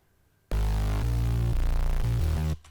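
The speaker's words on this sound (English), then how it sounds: "It's just a simple synth bass." A synth bass layered from a saw wave and sine waves with flanger plays a sequence of loud, sustained low notes on its own. It starts abruptly and changes pitch every half second or so before cutting off.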